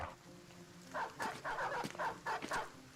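War dogs barking in the video game Battle Brothers, a rapid run of sharp, repeated barks at moderate distance over low background game ambience.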